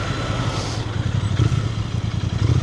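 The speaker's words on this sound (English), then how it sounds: "I thought I'd just go for a quick ride on this Bear from the Potteries" A Royal Enfield Bear 650 motorcycle engine running nearby at the Potteries, a loud steady low throb that pulses and rises slightly, with some rattling clatter on top and no talk.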